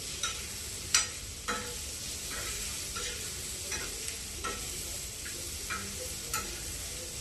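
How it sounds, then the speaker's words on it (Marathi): Onion sautéing in a pan with cloves, black pepper and cardamom for a home-style fish curry: a soft, even sizzle with regular light ticks of a spatula stirring, fairly quiet and without speech. "2-3 लवंगा, 4-5 काळे मिरे, 1 विलायची, मग कांदा सोबत याला पण परतून घ्यायचं."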